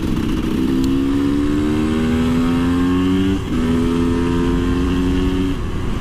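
KTM EXC 250 two-stroke motard motorcycle ridden under load, its raspy engine climbing in pitch through two gears with one shift midway, loud and close above constant wind rush.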